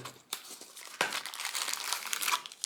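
Cardboard and plastic packaging of a vitamin C supplement box being opened, with a couple of sharp snaps followed by close, continuous crinkling and rustling.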